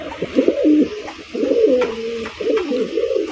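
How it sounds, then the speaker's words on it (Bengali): Damascene pigeons coo in deep, rolling, repeated phrases, close and clear, with short pauses between calls. "চলুন দর্শক আমরা এক এক করে কবুতরগুলো দেখাই।"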